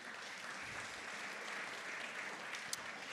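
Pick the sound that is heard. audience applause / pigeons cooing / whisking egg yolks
audience applause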